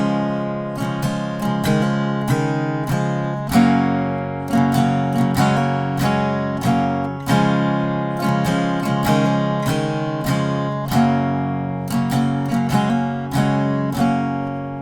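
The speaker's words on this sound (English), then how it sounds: "So altogether the first line with those hammer-on variations will sound like this." Acoustic guitar strums the chords of the first line of Be My Mistake by The 1975, adding hammer-on variations; steady, even strums ring out close and clear for the whole stretch, with no talking.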